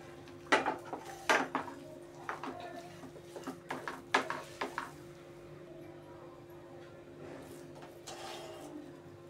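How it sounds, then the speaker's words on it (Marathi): Spice masala for Surti undhiyu is mixed by hand in a pot, giving scattered clinks and scrapes of a utensil against metal, close and intermittent over a quiet room with a faint hum, heaviest early then fading. "हा सगळा मसाला असा मिक्स करून घ्यायचा आपल्याला."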